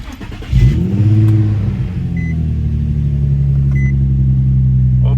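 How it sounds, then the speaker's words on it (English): Nissan 350Z engine during an oil change, cranking and catching with a loud start, then a brief rev before settling into a steady, deep idle close by, with no talking. "And now we're just gonna start it, check for some leaks. Let it idle for like a minute or two"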